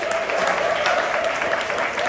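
An audience at a poetry slam applauds a poet, a loud, dense wash of clapping that holds steady throughout with no talk over it.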